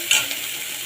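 Onion and tomato sautéing in a pan for mixed vegetable bhaji, a steady close sizzle with a brief stir scrape near the start, no talk.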